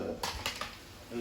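Gnocchi dough being mixed in a pot, a few clinking and scraping utensil strikes against the pot in quick succession, close and moderately loud, with faint room noise between them.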